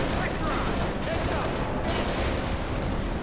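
Dense, continuous automatic gunfire from turrets in the video game Halo Reach rattles without pause, loud and close, filling the whole stretch with rapid overlapping shots.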